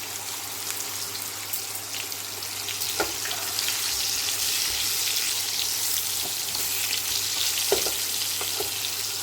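Pointed gourd (potol) pieces sizzling steadily in hot refined oil in a frying pan, a continuous bright crackle with a few sharper pops, close and alone.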